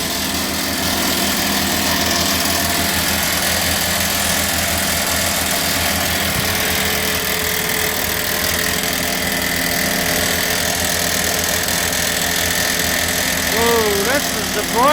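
Massey Ferguson TEA20 tractor engine running after being brought back to life, a steady close idle with a constant mechanical drone throughout, and a voice speaking briefly near the end.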